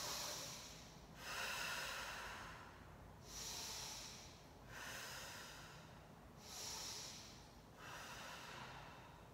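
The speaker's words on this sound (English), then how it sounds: "Take 3 thoracic breaths in through nose," Slow, deep chest breathing during a Pilates session lying supine, three airy breaths in through the nose and out through the mouth, each a soft rushing hiss that swells and fades with short pauses between, close and quiet.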